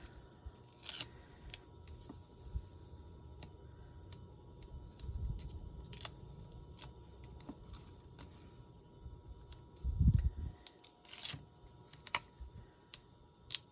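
Backing is peeled off sticky tape while assembling a coffin-shaped shaker box craft, giving faint crinkly rustles and scattered small clicks, with a louder ripping burst near the end, close and quiet with no talking.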